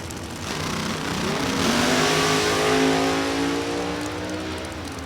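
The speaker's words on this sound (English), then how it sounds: "Red light start by Tyler. Your number 4 qualifier out of here" A drag racing car launches and accelerates down the strip at National Trail Raceway, a loud rising engine roar that swells and climbs in pitch over several seconds before easing off.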